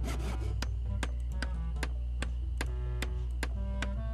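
A woodworker in the Monkey Island 2 pirate game shapes peg legs, sounding as steady rasping and rubbing over a constant low drone, with sharp regular ticks landing roughly every 0.4 seconds.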